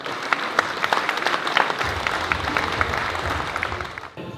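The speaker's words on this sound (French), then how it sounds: "Merci de faire un tonnerre d'applaudissements à Leïla Mefla." Applause from an audience at an amateur football awards evening, a dense sustained clatter of many hands clapping, loud and steady throughout, fading slightly near the end.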